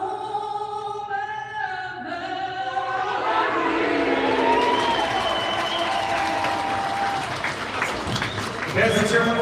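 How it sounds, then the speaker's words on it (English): A hockey arena crowd applauds and cheers, a swelling wash of clapping and shouts that builds and holds for several seconds, with an announcer's amplified voice over the start and end. "Let's cheer one more time for Angie Bloomberg."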